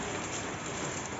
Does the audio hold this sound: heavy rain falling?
yes